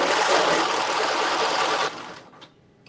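A sewing machine stitches a Carmen top in a steady, continuous whir for almost two seconds, then stops abruptly, leaving a quiet tail with a few faint clicks.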